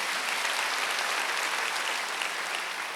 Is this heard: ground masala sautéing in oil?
no